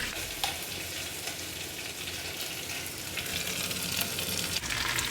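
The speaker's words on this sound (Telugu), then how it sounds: "కొంచెం నెయ్యి అంతా పట్టించేసి దాంట్లో చికెన్ వేస్తుంది" Chicken sizzles steadily in hot ghee in a pot for biryani, a dense even crackle of frying close up with occasional stirring scrapes and no voices.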